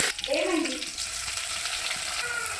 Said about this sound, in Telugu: ఇక తగినంత ఆయిల్ వేసుకుంటున్నాను, ఆవాలు వేసుకుంటున్నాను, అలాగే కొంచెం కరివేపాకు.